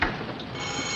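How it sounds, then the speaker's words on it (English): A ship's alarm sounds aboard a warship in a 1956 naval war film, a loud, continuous buzzing ring that holds steadily for the whole moment. "Sound the alarm."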